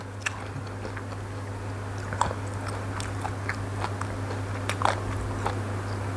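Spicy Korat-style papaya salad being eaten close up: repeated soft crunchy bites and chewing clicks scattered over a steady low hum, with no talking.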